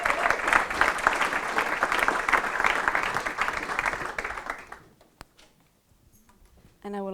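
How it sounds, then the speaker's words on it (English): Audience at the Fab City Summit in Paris applauds speakers, a dense round of clapping for several seconds that quickly dies away into near silence before a voice starts speaking at the end. "Give them a warm round of applause,"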